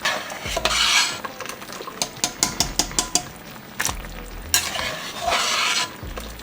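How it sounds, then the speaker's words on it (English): Pasta is tossed into a hot pan of lobster and cream sauce, sizzling while a utensil stirs and scrapes, with a quick series of clacking taps against the pan. "Then you want to just throw your pasta in there."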